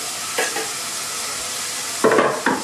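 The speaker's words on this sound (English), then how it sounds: "So that's the garlic going in." Garlic cloves dropped into a hot pan for tomato and celery soup, with a steady background sizzle and a couple of louder bursts of frying and stirring toward the end.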